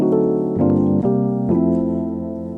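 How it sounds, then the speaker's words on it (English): Electric piano chords on a keyboard sound clearly, with a few sustained chord changes in quick succession, each ringing warmly and softly into the next. "if you're using a sound like E piano on the keyboard, which is a sound like this"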